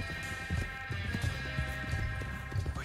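Horse hooves gallop in Red Dead Redemption 2 on Xbox One S, a rhythmic clip-clop of repeated thuds over a steady tonal game hum, close and without speech.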